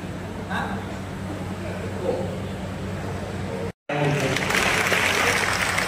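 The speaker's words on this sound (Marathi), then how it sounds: "सरांच्यासाठी जोरदार टाळ्या झाल्या पाहिजे" A crowd at a state-level police officers' convention in Pandharpur applauds an arriving guest, a dense, sustained clapping that cuts out briefly, then returns louder and fuller.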